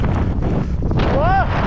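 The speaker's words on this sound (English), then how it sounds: "The wind picked up." Strong gusts of wind roar across the microphone during a mountain bike ride, a steady loud buffeting rumble throughout, with a brief voice-like whine near the end.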